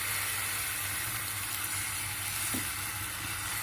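Batter for milk patishapta sizzles steadily in an oiled pan, a continuous bright frying hiss with a brief soft clink of a utensil near the end, close and unaccompanied by talk.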